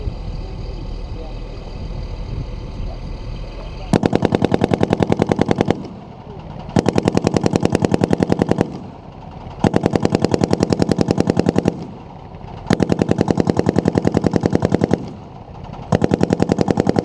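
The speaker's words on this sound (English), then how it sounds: "So that gunner just fired about 100 rounds from each of those positions" Machine gun firing at a test range, about 100 rounds at 650 rounds per minute, in four long loud bursts of rapid even shots separated by short pauses, after a stretch of lower rumble.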